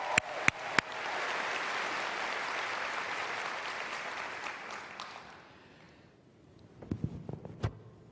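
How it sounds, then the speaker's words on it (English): An audience at a Relay for Life summit breaks into applause, a dense wash of clapping that holds steady for several seconds, then thins and fades into a few scattered claps. "How about a round of applause for that?"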